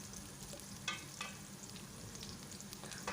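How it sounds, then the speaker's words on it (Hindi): Steady sizzling of tempering spices, ginger and garlic paste frying in hot oil for kadhi, with occasional soft clinks of a spoon stirring in the pan, close and moderately quiet. "उन तमाम तड़के को अच्छे से भून लेंगे जब तक कि वो ब्राउन ना हो जाए"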